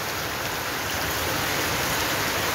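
Steady rain pours over a town square in Jamaica, a dense, even hiss filling the moment with no voices.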